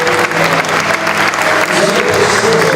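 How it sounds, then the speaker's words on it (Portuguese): Church congregation applauding a victory during a service ahead of a baptism, steady loud clapping from a packed crowd filling the whole stretch, with faint voices underneath. "Vamos aplaudir esta vitória do Santo."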